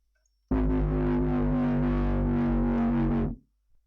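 Synth tone with a filter sweeping up and down under LFO modulation, a single sustained distorted note of about three seconds, loud and close, alone with no talk.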